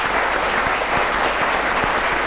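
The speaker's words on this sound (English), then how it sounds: "give them a big hand" A studio audience applauds quiz contestants from a Pune school, a steady, dense wash of clapping that stays even and fairly loud throughout, with no talk over it.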